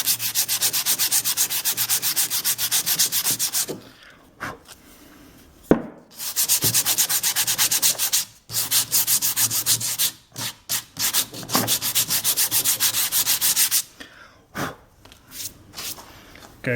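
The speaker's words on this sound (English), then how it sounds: "Now there's just a little bit of hand sanding to do." Rhythmic hand sanding on a wooden tomahawk handle, repeated scratchy back-and-forth strokes in bursts with short pauses between, close and clear.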